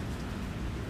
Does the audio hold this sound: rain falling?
yes